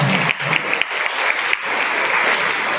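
A steady wash of loud applause from a crowd at a school award ceremony, dense and continuous clapping filling the whole stretch.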